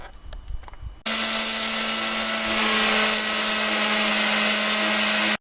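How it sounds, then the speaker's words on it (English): After a second of quiet workshop shuffling, a power sander whirs up abruptly and runs at a loud, steady pitch while shaping the edges of a wooden Batarang, continuing without pause to the end. "Now I guess we're going to just do the shaping with the sander and do all the edges."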